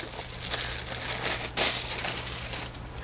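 Close crinkling and rustling of a plastic bag, steady handling with a sharper crackle near the middle, no talking.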